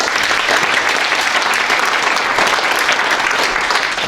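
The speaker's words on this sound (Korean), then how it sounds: "박수 환영해 주시면 고맙겠습니다." A forum audience claps warmly to welcome a guest introduced from the stage, a dense, even applause holding at full strength across the whole few seconds.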